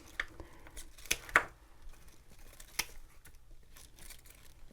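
Spent flowers are snipped off a holiday planter plant, giving a few faint, sharp cutting snips and light rustles of stems and leaves in a quiet setting.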